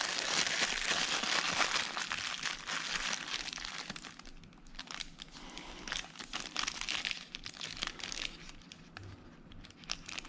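Plastic wrapping rustles and crinkles around a Casio G-Shock full metal watch, GMW-B5000D-1A, in a close, continuous handling sound that softens partway through and then resumes in fitful bursts.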